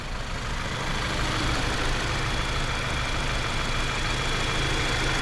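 A 2021 Subaru Crosstrek Premium with all-wheel drive and a CVT idles smoothly, a steady close engine drone with a broad even hiss and no changes in pace.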